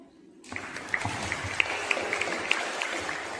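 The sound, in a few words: applause for a student's performance at a school Hindi Diwas celebration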